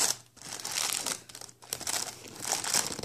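Plastic wrapping on a package of notebooks crinkles and crackles as it is opened by hand, close up, in several bursts separated by brief pauses.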